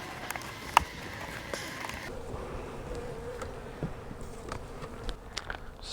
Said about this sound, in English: I see quite a few bees in here